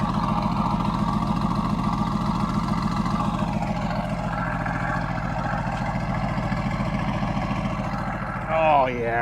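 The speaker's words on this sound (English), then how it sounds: "Nice V8 rumble." A 2016 Mercedes-AMG GT S V8 idles with a thick, steady low rumble and a continuous chug, loud and close throughout, ending with a brief rise near the end.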